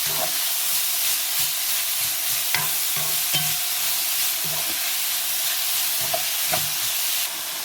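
Cabbage frying in a pan with a steady sizzle and hiss throughout, broken by repeated scraping and clinking as it is stirred, close and alone with no talking.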